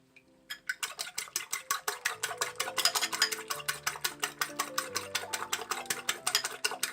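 Egg with a pinch of salt being beaten in a bowl, ready for cauliflower, makes a rapid, regular series of close clicking whisk strokes against the bowl that continues for several seconds, with no talking.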